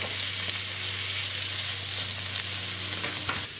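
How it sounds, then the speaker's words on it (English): Bacon sizzling in oil in a hot pan, a steady dense crackling hiss heard up close and loud throughout, with no talking. "So I'll add a bit of oil in there to get this bacon sizzling and chuck it in"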